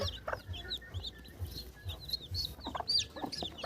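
Native desi chickens cluck softly and repeatedly nearby, with small chirps from chicks scattered throughout against a quiet outdoor background.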